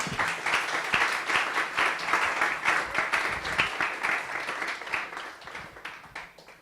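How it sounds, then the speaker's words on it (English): A seated audience at a talk breaks into steady, dense applause that swells and holds for several seconds, then thins and fades toward the end. "can I ask you all to just give UnLtd a round of applause?"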